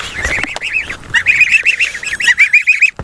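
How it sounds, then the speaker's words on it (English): Ducks swim close by at a home pond in spring, giving a quick run of loud, repeated quacks and squawks that ends in a short pause. "So I got the duckies. They left for a week and they decided to come back and they're swimming."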